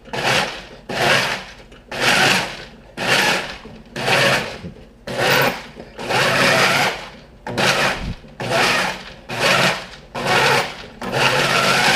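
Blender pulsing dehydrated tomatoes into powder, a loud, close grinding whir in about eleven short, even bursts separated by brief pauses, with no talking.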